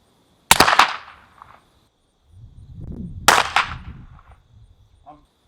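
Two sharp, close reports from a suppressed lever-action carbine a few seconds apart, each a loud crack with a short decay, with the clack of the lever action working and faint rustling between shots.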